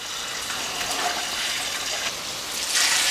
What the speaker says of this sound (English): you want to fill the pot up, stock pot up with water until the chicken's covered